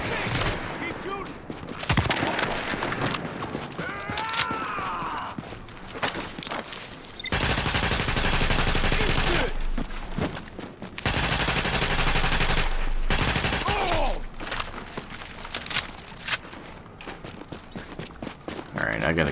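Automatic weapon fire in Tom Clancy's The Division, with loud sustained bursts and scattered single shots across the fight, mixed with game effects and brief quiet stretches.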